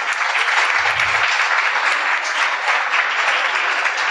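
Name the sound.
audience applause for the DSMS students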